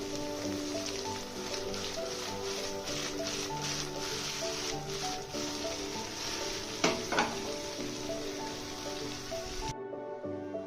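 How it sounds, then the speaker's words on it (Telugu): Sliced okra (ladies finger) frying in oil in a pan, a steady dense sizzle with soft stirring scrapes running throughout, one louder clatter near the end before the sound cuts off abruptly. "ఇలా కలుపుకుంటూ ఫ్రై చేసుకోవాలి."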